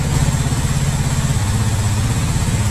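A Honda CD 70 motorcycle engine runs close and loud, a low throbbing putter that drops in pitch partway through as the revs fall back.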